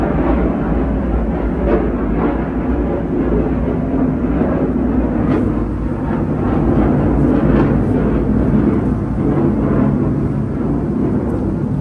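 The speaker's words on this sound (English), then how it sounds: "Of course, I record when there's a jet passing by." A jet airplane passes overhead outdoors in a garden, a broad continuous low roar that holds steady and loud throughout without talk.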